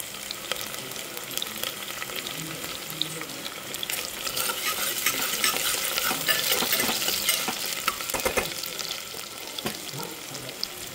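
Sautéing in homemade ghee in a pan for dal rice, with a spoon stirring and scraping through a crackling sizzle that swells in the middle and carries a few sharper clinks toward the end, close and wordless.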